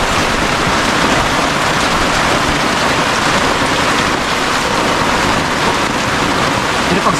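Heavy storm rain roars continuously, a loud unbroken wash of drops hammering nearby surfaces with no pauses.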